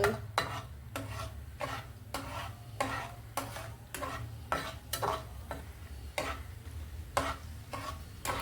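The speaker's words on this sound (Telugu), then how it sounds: "ఇవి వేగాక ఆవాలు వేస్తానండి. ఆవాలు ఎక్కువసేపు వేగక్కర్లేదండి నూనెలో." Mustard seeds fry in hot oil with a soft sizzle. A spoon stirs the pan in a steady rhythm of scraping strokes, roughly one each second, close by with no talk.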